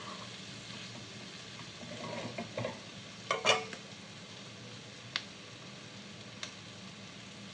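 Chicken and bitter gourd frying in a pan, a low steady sizzle with stirring and scraping, a sharper burst of clatter midway and a few isolated ticks afterward, with no voices.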